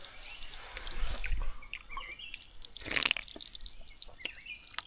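Water from a natural source in the Meghalaya hills drips and trickles softly, faint and close, with occasional brighter droplets and distant bird calls.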